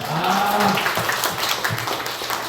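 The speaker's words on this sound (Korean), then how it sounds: "박수 한번 해주세요" Church congregation applauding during a Sunday service, a steady wash of many hands clapping from the room with a voice briefly heard over it at the start.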